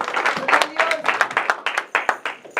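A church congregation claps during a service, a loose, rhythmic run of fairly close hand claps with voices mixed in, uneven pulses rather than a smooth roar.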